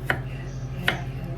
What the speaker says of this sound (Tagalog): Tapos hiwain lang ng pabilog.